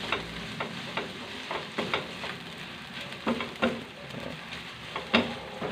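Mekos sauté in a pan with a soft, steady sizzle and occasional stirring clicks and scrapes, fairly quiet and close, with no talking.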